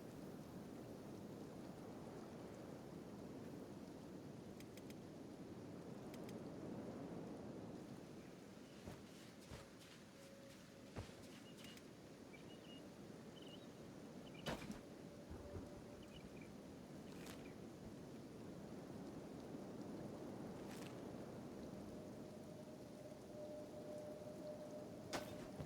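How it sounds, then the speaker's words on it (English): Acid rain in the game Kenshi falls as a steady, soft wash of rainfall, with scattered faint ticks and crackles over it and no voices. "It's acid rain."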